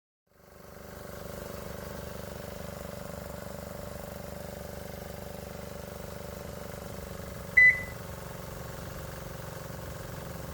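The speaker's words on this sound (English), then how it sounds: "The little diesel engine starts off a bit sluggish, but we're picking up speed." A small diesel engine in a twin-engine diesel, gasoline and electric golf cart, starting up and accelerating from standstill, a steady, moderately loud engine drone with a brief sharp chirp near the end.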